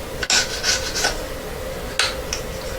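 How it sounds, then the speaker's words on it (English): A rubber polishing wheel lightly touches the solder joins on a piece of handmade jewellery, making soft, close rubbing and rasping strokes with a few brief sharper scrapes between them. "just going to use my rubber wheel a little bit, just on the side, just touch the solder joins"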